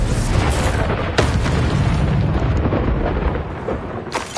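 Fiery blast of the Confringo spell in the Hogwarts Legacy video game, a loud booming explosion with dense rumble filling the whole stretch and a sharp burst near the middle.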